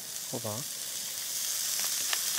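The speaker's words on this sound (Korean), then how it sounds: "그래서 이제 넣는데 같이 볶아줍니다" Salted, drained zucchini and softened onions sizzle steadily in a frying pan, a constant bright hiss with a couple of brief tonal clinks near the start.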